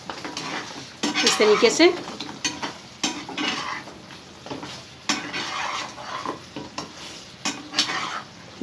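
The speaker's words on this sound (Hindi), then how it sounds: "मतलब गरम चाशनी में ही डालना है हमें? हाँ, इस तरीके से। और इसे हमें चलाते रहना है" Mathri pieces being stirred in hot sugar syrup in a pan, with scraping and clinking of a spoon against metal in uneven bursts, while someone talks close by.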